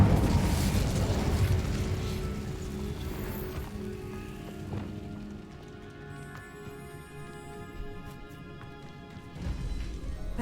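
An Incendio fire spell cast in a Hogwarts game opens with a loud roaring, crackling burst. It fades over several seconds into a quieter fizz with faint tonal shimmer, then a final swell.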